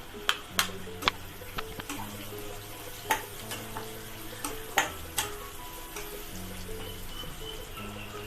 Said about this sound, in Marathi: कांदा ना आता भाजून झालेला आहे चांगला. त्याच्यामध्ये लसूण घालते.